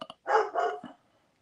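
A dog barks at close range, two quick yips followed by a couple of louder, drawn-out barks, then silence.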